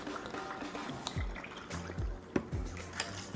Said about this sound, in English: we top it off with our liquid protein shake